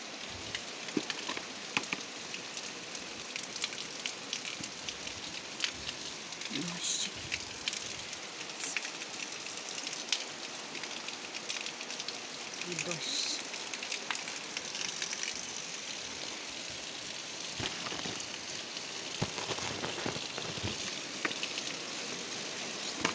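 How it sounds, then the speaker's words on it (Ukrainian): Steady patter of rain falling outdoors, a continuous hiss with scattered drops, moderately loud and without any talking. "Йде дощик а ночі був такий дощ, прям капець."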